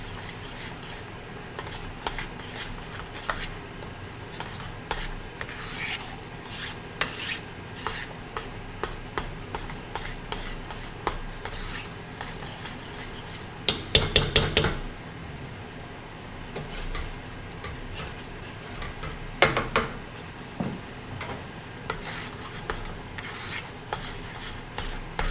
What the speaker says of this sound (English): It means I'm almost done stirring, and I can turn the heat off.